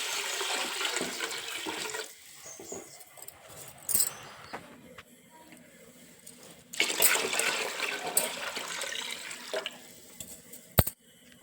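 Water is poured from a tiffin box into rice flour to make murukulu dough, heard as several short splashing pours separated by quiet gaps, ending with a sharp click.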